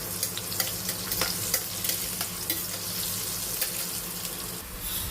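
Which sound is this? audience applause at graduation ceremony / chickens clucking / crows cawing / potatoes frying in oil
potatoes frying in oil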